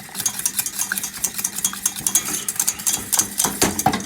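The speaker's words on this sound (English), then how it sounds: "You don't want the sauce to go too thin, keep beating it" Milk sauce for croque sandwiches is beaten briskly in a pan, giving a steady run of close, rhythmic scraping and tapping strokes that keeps going without pause and has no voices over it.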